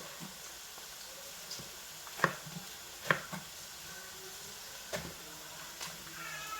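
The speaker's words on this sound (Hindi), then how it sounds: "इसको हमने बड़े बड़े स्लाइसों में हमने इस तरह काट लेना है।" A knife cuts a large eggplant into big slices for aloo baingan, making a few sparse, soft cutting thuds at irregular intervals. They are close but quiet, with no talking.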